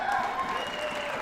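Audience applause during a panel with actor Jason Isaacs, a steady wash of many hands clapping at fairly constant loudness over the short span, with faint voices mixed underneath.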